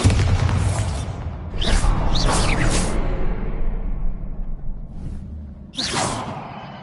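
Bombarda blasting spells explode in Hogwarts Legacy on PS5: a series of loud, deep booms with sharp whooshing bursts, several spaced blasts over a rumbling low background.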